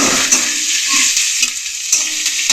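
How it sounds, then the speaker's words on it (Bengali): Onion frying loudly in hot oil in a pan, browning to a reddish colour for a cauliflower-stem curry, a dense steady sizzle with a few soft knocks of a stirring spoon. "এটা আমি ভেজে নেবো পেঁয়াজটা। একটু লালচে ধরনের করে ভাজবো"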